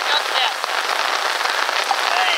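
Steady rain pours on a golf course, a dense continuous hiss of drops pattering on surfaces, loud and close, with occasional faint voices beneath.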